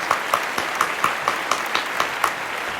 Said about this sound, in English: Now, let's give them a big hand.